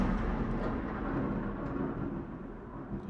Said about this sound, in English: the thunder's fucking loud outside